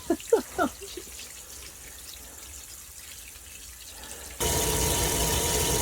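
Water sprays and hisses steadily from a thawed, formerly frozen pipe in a mobile home, starting after a few brief knocks and a long quiet trickle, then bursting into a loud, continuous rush near the end.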